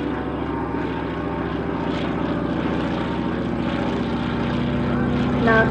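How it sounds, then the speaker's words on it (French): A de Havilland Beaver propeller aircraft flies past at an airshow, its steady radial-engine drone and prop buzz loud and constant throughout, swelling slightly near the end. "this Beaver with a bit of orange right on it here is being flown"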